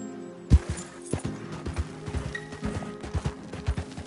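A horse gallops in the video game Red Dead Redemption 2, with a rapid rhythmic clip-clop of hooves and the odd snort over a faint background, close and fairly loud.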